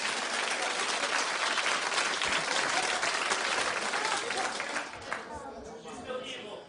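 Studio audience at a television talk show clapping on cue, a dense burst of applause that holds steady, then thins out and fades near the end.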